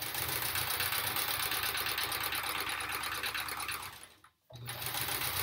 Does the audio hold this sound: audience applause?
no